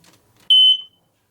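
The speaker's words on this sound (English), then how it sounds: "every smoke detector has a button on there where you can push it and it'll activate it and let you know" A smoke detector alarm is set off with its test button while the detectors are being cleaned, one loud, piercing high beep lasting about a third of a second after a few faint handling noises.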